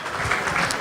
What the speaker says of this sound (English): Let's have a nice round of applause for Gabriel, the father of the bride.